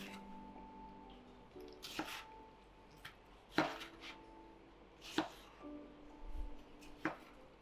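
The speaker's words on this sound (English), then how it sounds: "Then chop the tomatoes up into chunks." Knife chopping tomatoes into chunks on a board, a few separate sharp knocks spaced unevenly over a faint steady background hum, close and moderately quiet.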